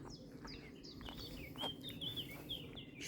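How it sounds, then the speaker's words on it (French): Birds sing in the evening along a riverside, many chirps and short whistled calls scattered over a steady hum of insects, soft and somewhat distant. "J'espère que vous entendez tous les oiseaux et tout."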